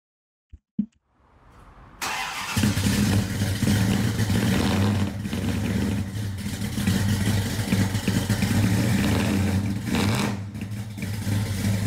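A 426 Hemi V8 fires up with a couple of sharp cranking pops, then settles into a loud, continuous, deep rumble with rough revving swells, close and steady with no voices.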